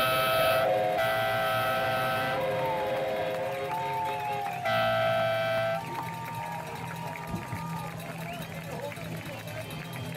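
A loud, continuous rumble with whistle-like tones rolls through a broadcast booth at a high school football game, sustained and roaring throughout, with talk underneath.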